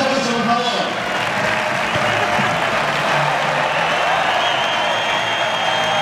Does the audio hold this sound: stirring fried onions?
no